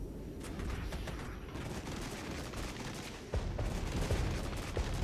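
Incoming artillery fire in the war game Regiments, a steady barrage of dense rumbling blasts and crackling impacts with a heavier surge partway through, loud and without talk.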